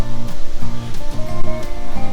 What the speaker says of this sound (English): That's the Chestatee River down there.